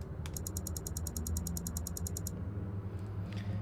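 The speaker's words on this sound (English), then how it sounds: "It's just the sound of the text coming on screen." Text appears on screen in the game The Fissure with a rapid, evenly spaced ticking chatter of about twenty quick bright clicks, stopping abruptly over a steady low mechanical drone.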